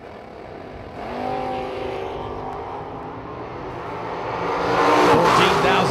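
At a drag strip, a Chevy II Nova and a wheelie wagon race, their engines droning and then swelling into a loud roar that builds toward the end, with a voice speaking over it.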